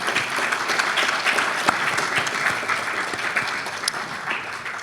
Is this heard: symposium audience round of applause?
yes